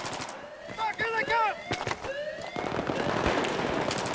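Slow, heavy single shots from a SCAR-H battle rifle in Battlefield 3 crack out a few at a time, mixed with game voices and rising battlefield noise toward the end.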